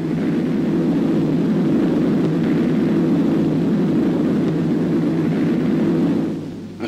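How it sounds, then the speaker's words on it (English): Massed WWII bombers flying over Iwo Jima produce a steady, loud engine drone with a dense low rumble that holds constant throughout, then drops away at the very end. No voices are present. "Carriers, lying back of the main fleet, sent in hundreds of bombers."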